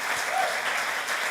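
Audience applause at a global inclusive growth summit in Washington D.C., a brief, even burst of many hands clapping at moderate loudness.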